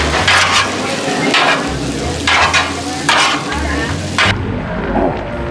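Cashew chicken stir-fry sizzles loudly on a Blackstone griddle as two spatulas toss and mix it, producing repeated close metallic scraping strokes over a constant frying hiss.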